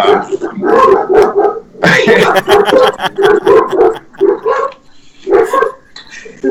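Several dogs bark repeatedly and loudly close by, a run of sharp, clustered barks and yips with brief pauses between bursts.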